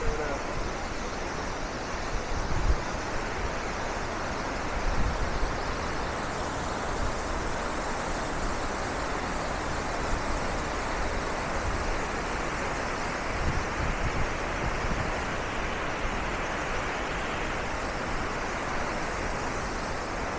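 Wachirathan Waterfalls in Doi Inthanon National Park roar as a dense, constant rush of falling water, loud and close, with a faint voice now and then.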